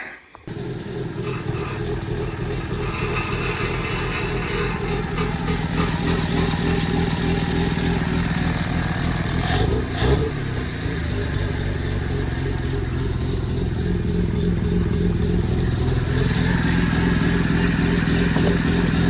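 A rotary engine on a trike runs at a steady idle close by, a continuous low rumble with a slight rise in pitch near the middle before settling again.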